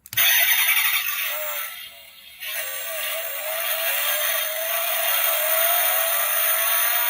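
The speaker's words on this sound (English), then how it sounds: "yeah, engine noises on an electric car." A miniature toy Tesla Model X plays a synthetic engine sound: a steady, loud revving whir with a rattly texture that dips briefly, then rises again and holds.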